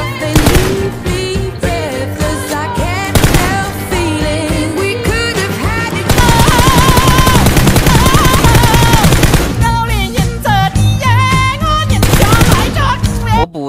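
Automatic weapon fire in the mobile battle royale PUBG Mobile, loud sustained bursts running almost continuously over music-like tones, with a denser barrage in the middle stretch.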